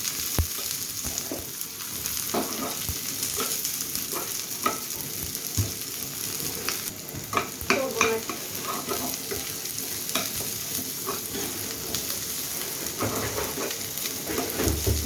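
Chopped onion and garlic sizzling steadily in oil for a Bengali fish-head muri ghonto, with a constant bright crackle and scattered scrapes of stirring, loud and close with no voices.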